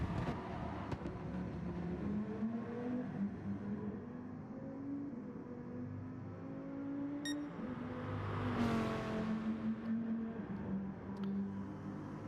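A Viper race car engine roars at a distance, its pitch rising and falling as it accelerates and shifts, with a brief high beep midway.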